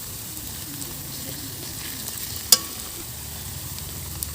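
Chopped onions, already lightly fried, sizzle softly with ground ginger, garlic and chili paste, a steady low frying hiss with one sharp utensil clink partway through.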